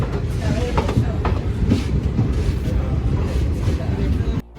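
A passenger train runs through Gudur junction, its steady loud rumble and rail clatter filling the whole stretch before cutting off sharply near the end.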